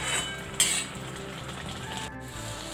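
A thick melted jaggery mixture is stirred in a hot pan, making a steady soft sizzle with occasional scrapes and clinks of the spoon against the metal, close and continuous with no talking.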